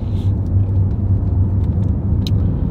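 A car, either a McLaren 720S or an Audi RS e-tron GT, cruises slowly and gently along a race track, giving a steady close rumble and whir from inside the cabin with no talking.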